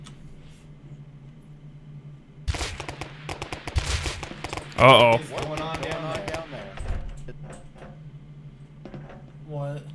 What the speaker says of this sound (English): There's major gunfire going on outside.